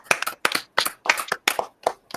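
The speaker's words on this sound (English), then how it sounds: "Golf clap." A small group gives a quiet, deliberately polite golf clap, about a dozen light, separate hand claps in a loose, uneven rhythm, close by with no talking.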